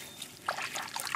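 Faint trickling water, a soft continuous dribble with small splashy bursts, heard quietly at close range with no talking.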